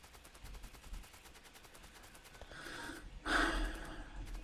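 Machine gun turrets fire in Factorio as a steady, dense stream of rapid shots, swelling near the end into a louder, harsher burst with no voices.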